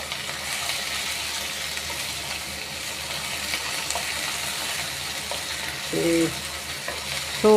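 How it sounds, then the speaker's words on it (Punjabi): Onion frying in a pan with curry leaves and garlic, a steady hiss and crackle with stirring scrapes and a few clinks of a utensil, fairly close, with no talk. "ਇਸ ਤੋਂ ਬਾਅਦ ਮੈਂ ਨਾਲ ਦੇ ਨਾਲ ਪਾ ਦਾਂਗੀ ਪਿਆਜ਼"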